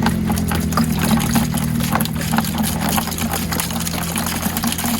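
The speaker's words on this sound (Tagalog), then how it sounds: "haluan lang namin ito ng tubig dito sa balde" Water poured into a bucket and mixed, a steady continuous liquid rush with a low droning hum beneath, moderately loud throughout without speech.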